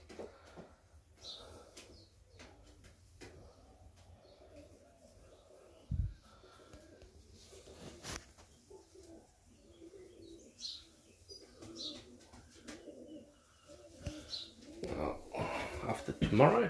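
Serbian Highflyer pigeons coo softly in bursts, with scattered chirps and occasional wing flaps, while a voice talks quietly at times.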